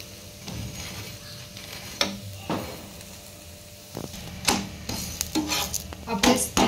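Thalipeeth flatbread frying in a pan gives a soft background sizzle, broken by scraping and pressing sounds and a few sharp clicks of a utensil against the pan, with the sizzling loudest near the end.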